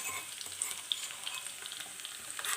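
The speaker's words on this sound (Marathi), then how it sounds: "तेल गरम झालं तर मी आता हा पूर्ण लसण याच्यामध्ये ॲड करते" Whole garlic cloves sizzle and crackle steadily in hot oil in a pan as they brown to a reddish color, with a few faint sharp pops and no voices.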